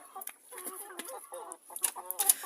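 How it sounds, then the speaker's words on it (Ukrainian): A Dalmatian Leghorn hen clucks in a quick run of short, close calls, some sharper notes and a brief squawk near the end, on a small backyard flock. "Ось курочка."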